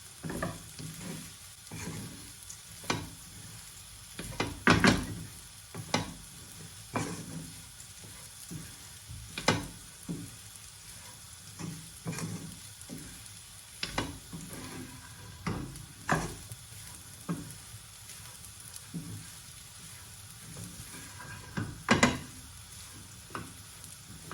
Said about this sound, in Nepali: यसलाई मिडियम टु हाई हिटमा यसै गरी भुट्नुपर्छ